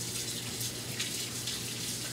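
Tap water runs steadily from a faucet as soapy hands are rinsed at a sink, a soft continuous splashing stream with no voice over it.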